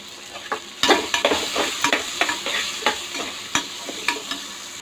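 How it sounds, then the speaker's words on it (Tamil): Small and large onions sautéing in a pan until golden brown: a steady sizzle broken by repeated scraping stirs of a spoon, close and fairly loud, with no voices. "இதை நல்லா கோல்டன் ப்ரௌனாக வதக்கிட்டு வந்துடலாம்"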